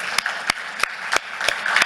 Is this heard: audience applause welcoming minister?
yes